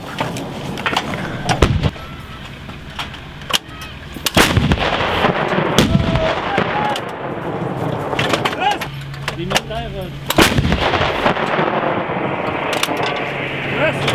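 Military artillery guns fire during a training exercise at Valcartier, with repeated sharp, loud booms at irregular intervals and shouted commands and talk between the blasts.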